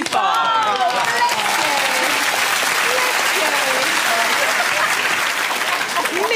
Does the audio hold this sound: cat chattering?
no